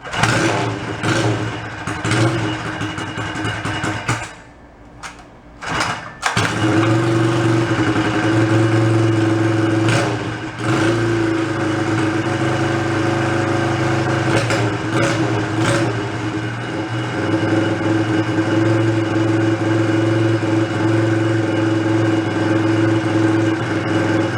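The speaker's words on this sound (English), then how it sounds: "Gotta warm up. I don't want to turn the idle up because when it's warmed up, it's fine." A homemade 1955 motorbike's engine idles while warming up, a loud, close, uneven chugging that dips and nearly stalls twice, around five and ten seconds in, before settling into a steady, slightly rough idle.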